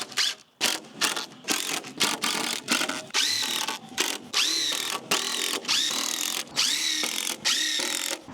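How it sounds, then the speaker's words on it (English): Cordless power drill driving screws into deck boards on a double-decker deck build: repeated close, loud bursts of whirring motor that rise in pitch and then cut off, each followed by a brief pause, in a steady working rhythm. "So you want 2 screws per joist and just work your way down."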